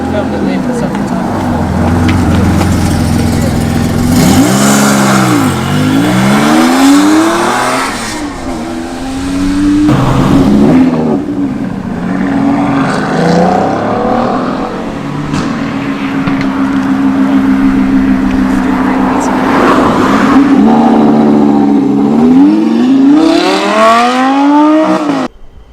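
A rear-engined Renault Clio V6 pulls away from a car meet, its engine note rising and falling through several loud revving gear pulls up close, with people talking in the background.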